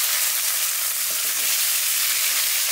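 Mustard oil sizzles and spits steadily in a wok on the stove, a dense bright crackle that runs unbroken for the whole stretch, close and moderately loud. A faint stir or clink sounds partway through, and no one speaks.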